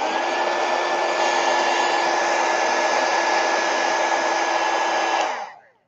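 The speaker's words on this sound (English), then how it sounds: "I'm going to heat gun it." A heat gun blows steadily at close range, a loud, even whooshing hiss with a faint whine that holds for about five seconds before it is switched off and spins down.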